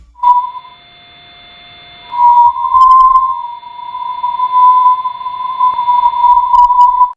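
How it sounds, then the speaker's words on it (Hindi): A sonified space recording of the Sun, made from changes in highly charged particles, sounds like a loud, steady, whistle-like tone. It breaks off briefly, then resumes as a sustained whine with faint beeps near the end. "यह तीसरी ऑडियो हाई चार्ज पार्टिकल में होने वाले बदलाव की आवाज है।"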